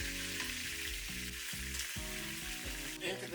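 Beef back ribs frying in hot oil, a steady crackling sizzle running throughout at moderate level, over a faint rhythmic background beat, with no talking.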